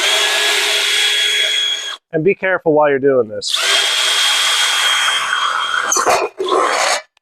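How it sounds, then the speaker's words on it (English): A power drill whirs loudly in two long bursts, drilling a hole slightly off-center, with a brief spoken remark between them and a short clatter near the end. "So I'm going to drill this out,"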